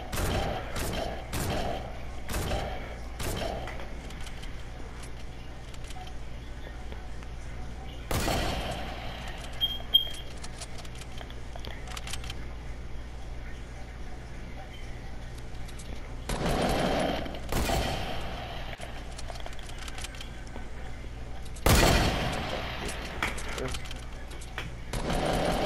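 Rapid bursts of gunfire in a Fortnite duos match, sharp shots fired in quick clusters with a few louder blasts, while players call out over the action.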